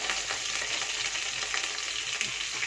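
A small splash of oil in a hot pan sizzles and crackles steadily and loudly at close range throughout, with no talking.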